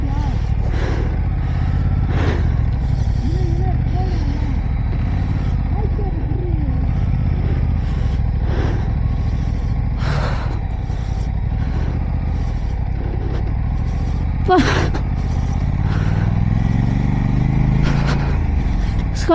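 A motorcycle engine drones and revs continuously uphill in sports mode on the road from Leh to Khardung La, close by, with rising pitch near the end and occasional knocks and clatter; a voice talks over it at times.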